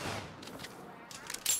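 Rapid gunfire in the video game Saints Row, a short, faint burst of shots trailing off in a brief scattered fusillade.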